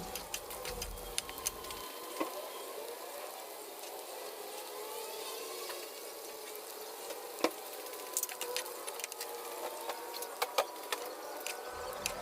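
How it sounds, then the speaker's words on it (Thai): Garlic and pork fry in hot oil, giving a soft continuous sizzle with scattered small pops and crackles, heard quietly and close without any voices. "หมูได้ที่แล้ว เราก็จะใส่กระเทียมลงไปเลยจ้า"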